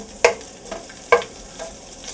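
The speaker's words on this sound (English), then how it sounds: "Here's your pancetta or your bacon, whatever you're going to use. And you want to let that fry up crisp." Pancetta frying crisp in olive oil, a low sizzle punctuated by two sharp spatula clinks against the pan, fairly close and otherwise steady.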